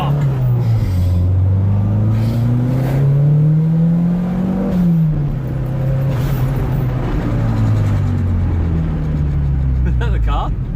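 A Toyota MR2 engine on high boost revs loud and close, its droning note rising and falling in long sweeps as it pulls through the gears, with a continuous roar throughout.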